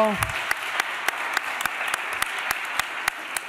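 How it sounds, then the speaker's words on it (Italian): A crowd applauds steadily, with a few sharp claps standing out in a regular rhythm above the wash of clapping. "facciamo un applauso di ringraziamento"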